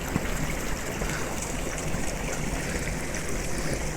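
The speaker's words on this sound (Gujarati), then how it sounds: "તો મિત્રો તમે જોઈ શકો છો આ કેવું પાણી આવી રહ્યું છે।" Water flows through a village canal beside farm fields, making a steady, even rush of broadband noise that holds at the same level from start to end, with no voices.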